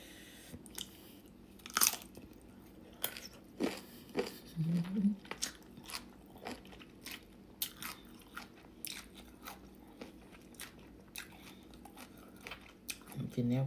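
Close, crisp bites and crunchy chewing of small sour mangoes repeat irregularly, loud against a quiet background, with a few brief spoken sounds between bites.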